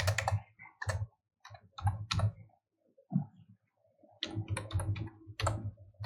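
Clusters of computer keyboard key clicks as a command is typed, with short quick bursts separated by pauses and a final keystroke like pressing Enter, close and fairly loud.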